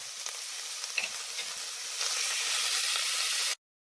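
One medium onion sautéing in a pan for clam chowder: a close, bright sizzle that swells louder partway through, with a few faint stirring taps, then cuts off abruptly into silence, and no voices.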